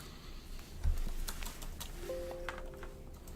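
Someone types a password on a computer keyboard, a short run of soft, quiet key taps in a room with a faint tonal hum near the end, no talking.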